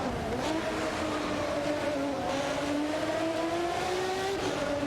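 A McLaren F1 GTR and two Toyota MC8 race cars battle for position in a racing video game, a steady high engine whine with rising pitch as they accelerate, loud and continuous.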